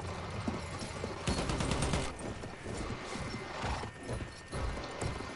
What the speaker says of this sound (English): I'm about to hop on a horse.